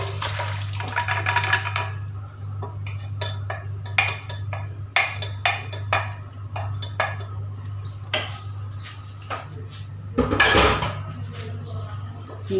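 Cooked chicken tipped into a pan for a Kerala-style naadan chicken roast, a series of clattering knocks and scrapes of utensil on metal over a steady low kitchen hum, ending in a louder sizzling rush.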